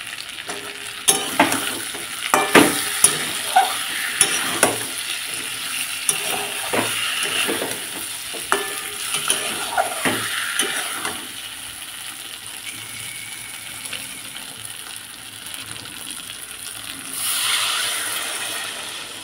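Bengali egg curry simmering and frying in a pan, a steady moderate sizzle broken by a quick series of spoon taps and scrapes, then a quieter bubbling stretch with a brief swell near the end. No one speaks.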